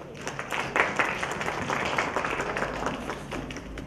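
Audience applause at a youth inclusion forum panel, a moderate spatter of clapping across the room, fairly soft and uneven, with a louder burst early on.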